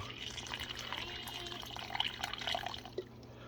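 Water trickling and dripping into a tarantula's small water dish until it overflows, soft and close with light splashy drips, fairly quiet throughout.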